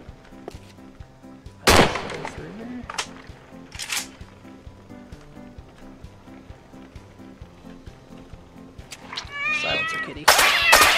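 In the Postal 4 video game, a cat serves as a gun silencer: loud shot bursts mix with cat yowls and meows, separated by quieter game ambience, with a final strong burst and a wavering meow.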